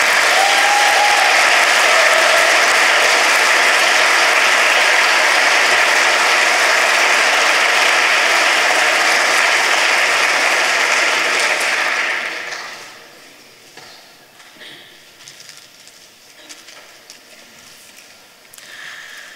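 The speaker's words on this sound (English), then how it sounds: "Please give them a round of applause one more time" Loud, dense applause from a large crowd at a science contest award ceremony fills the space, then fades quickly to a quiet room with faint scattered noise.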